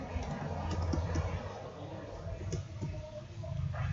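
A computer keyboard clatters with irregular keystrokes in short bursts, fairly quiet and close, against a low steady background hum.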